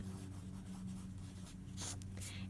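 A pen or pencil scratches across a sheet of blank paper in steady, close strokes over a low background hum, with a couple of brighter scraping bursts near the end.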